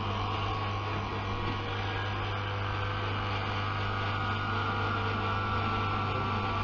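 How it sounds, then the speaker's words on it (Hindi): A vacuum pump evacuates an inverter split air conditioning system, running as a continuous steady hum with a noisy hiss layered over it, close, even and unchanging throughout. "पंप को हमने सिस्टम से कनेक्ट कर दिया है।"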